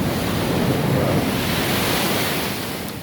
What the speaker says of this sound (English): see my beautiful surroundings and the beautiful angry ocean